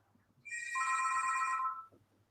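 A telephone rings once with a bright, sustained electronic bell tone lasting about a second, loud and close in a quiet room.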